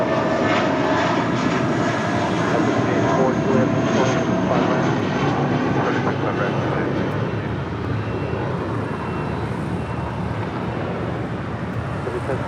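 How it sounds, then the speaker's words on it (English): A JetBlue Airbus A320 jet takes off from LAX runway 25 right, bound for Puerto Vallarta, with a loud, steady engine roar that fills the whole stretch and slowly eases as it climbs away. "That was JetBlue Airways Flight 1063 heading to Puerto Vallarta and then A320."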